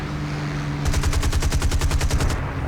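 Machine-gun fire from a Hurricane Mark 1 fighter plane in a flight combat video game: a rapid, evenly spaced burst of about fifteen loud shots over a steady engine drone, with no talking.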